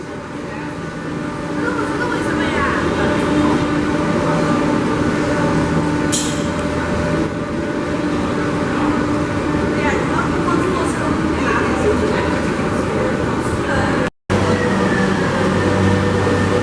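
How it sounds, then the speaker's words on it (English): A Shanghai Metro Line 2 subway train rumbles and hums steadily with a loud, constant drone, briefly cut by a short dropout near the end. "So here's the subway station. Here's our train."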